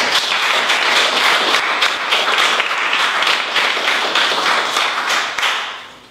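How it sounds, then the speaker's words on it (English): Loud, dense applause from a lecture audience, sharp claps packed together close by, holding steady for about six seconds before fading at the end. "Can we just give another round of applause, please?"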